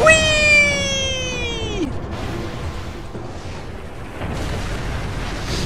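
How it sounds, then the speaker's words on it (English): A bomb goes off in Resident Evil 4, starting with a loud burst and a falling whine, then settling into a rumbling, crackling tail that swells again near the end. "Bits of that bomb are going off prematurely."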